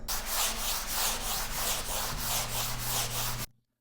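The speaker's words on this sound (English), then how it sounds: "So I'm quickly gonna run the sanding block through" Steady back-and-forth rasping of a sanding block on a painted wall, close and continuous in rhythmic strokes, stopping abruptly near the end.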